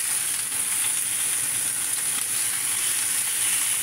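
Fish fries in hot oil until golden brown, a loud, even, unbroken sizzle and hiss filling the space close up.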